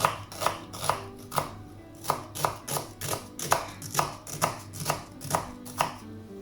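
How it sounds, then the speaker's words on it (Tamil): A knife chopping onion into long strips on a board, steady evenly spaced cuts about two per second, close and clear with no talking. "ஒனியனை இப்படி நீட்டாக கட் பண்ணி எடுக்கணும்."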